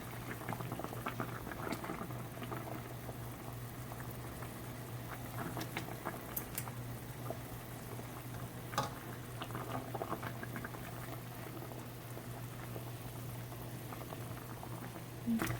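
Bagels boiling in a pot of water, a steady close bubbling roil with continuous patter and small pops throughout, under a low hum and without any talking.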